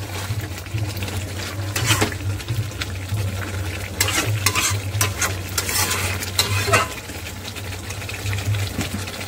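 Chicken meat cooks with spices and salt and no added water in a pan, a steady close sizzle broken by frequent scraping spoon strokes in an irregular rhythm throughout.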